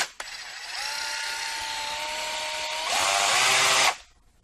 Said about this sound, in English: I call this a mouse sander.